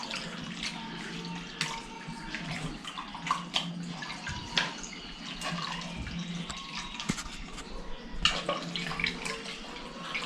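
Water poured into a pot of mutton curry during home cooking runs as a continuous splashing stream for about ten seconds, close and fairly soft, with no talking.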